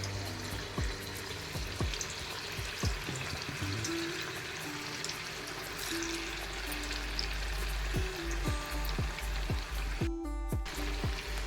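Cabbage manchurian balls deep frying in hot oil, a continuous bubbling sizzle with repeated soft plops and drips as pieces drop in, close and fairly quiet, no talking.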